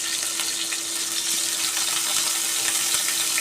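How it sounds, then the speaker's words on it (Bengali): Pieces of chicken sizzle in hot mustard oil in a kadai, a steady close crackling hiss that continues evenly with no talking. "এবারে এই তেলে চিকেনটা ছেড়ে দেবো।"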